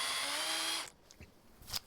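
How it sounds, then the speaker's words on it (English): A power drill whines steadily through aluminum bracket pieces for about a second before cutting off, followed by a few faint clicks and handling knocks close by. "I'm just drilling these aluminum pieces"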